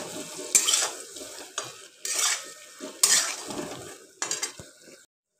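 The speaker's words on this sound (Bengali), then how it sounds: "হয়ে গেছে আমার পেঁয়াজ রেডি, সেদ্ধ পটলগুলো আবার দিয়ে দিচ্ছি।" Boiled pointed gourd tipped into a pan of frying onions and stirred, bright sizzling bursts mixed with metal spoon scrapes and clatter against the pan, close and loud, fading to quiet at the end.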